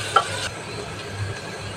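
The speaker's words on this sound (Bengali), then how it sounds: "সুন্দর করে পেঁয়াজটা কষিয়ে নিতে হবে।" Onions being fried in a pan for beef bhuna, with a low, steady sizzle, a brief scrape at the start, and then soft continuous frying.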